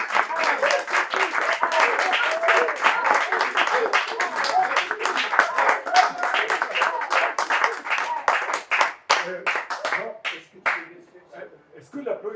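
An audience claps during a music-software demonstration, a rapid patter of many hands with voices mixed in, gradually thinning into scattered individual claps and fading toward the end.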